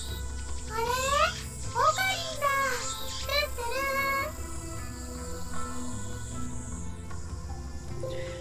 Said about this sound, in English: I can hear the chirping of cicadas from the few trees growing here.